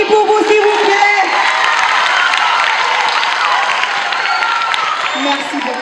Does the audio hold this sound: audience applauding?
yes